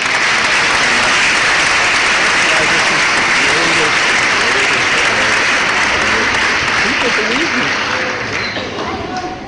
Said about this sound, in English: I want an applause for that